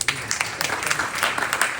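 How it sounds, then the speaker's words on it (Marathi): A seated audience gives a short burst of applause, a dense patter of hand claps that carries at an even level. "टाळ्या वाजवा त्याच्यासाठी."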